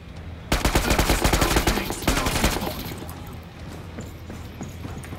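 A rapid, loud burst of gunfire hammers at a boss in a video game, the shots coming in a fast steady string for about two seconds before fading into a quieter ambience.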